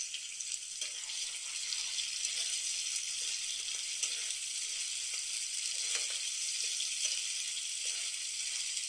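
Spice paste with turmeric, salt and sugar sizzles steadily in a pan, a constant bright frying hiss with faint scraping underneath, close and continuous with no talking.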